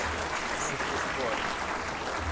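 Audience at the Mindful Money Awards applauding as the sponsor walks to the stage, a continuous dense patter of clapping throughout, with voices mixed in underneath.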